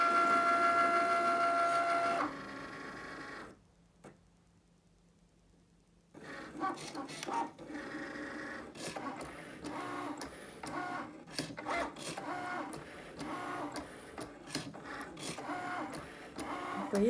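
Cricut cutting machine working on a front-door craft project, giving off a continuous mechanical whirring with rapid clicking carriage movements, briefly cut off by a short near-silent gap before resuming steadily up close.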